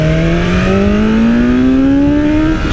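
A 2020 BMW S1000RR superbike with a flashed ECU accelerates hard in fourth gear, its loud, close engine note climbing steadily in pitch without a break.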